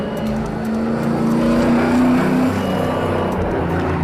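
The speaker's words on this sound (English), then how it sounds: "Oh, he's drifting this corner." A street-legal stock car drifting around a track corner, its engine roaring loud and close with a rising, wavering pitch over the whole stretch, with no speech.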